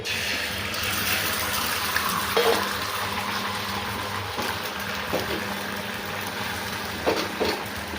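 A whole egg frying in hot oil, giving a continuous loud sizzle and crackle with a few louder pops and spits, heard alone without talk.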